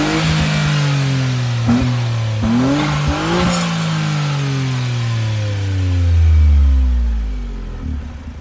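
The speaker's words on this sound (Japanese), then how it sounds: "マフラーの柿本製のマフラーサウンド、もうお好きなように、" A yellow Honda S660 with a Kakimoto muffler is revved hard several times, its engine note climbing sharply with each blip and falling back, ending in a long winding-down pitch drop.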